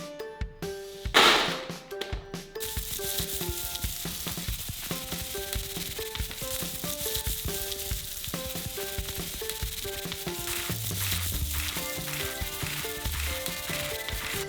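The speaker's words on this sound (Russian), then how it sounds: "Загибаем край и начинаем перетирать арахис между собой. Шелуха отделяется и выпадает через ячейки в сетке." Peanuts rubbed together inside a mesh bag to shed their husks give a continuous dry rustling and gritty scraping that runs steadily beneath background music.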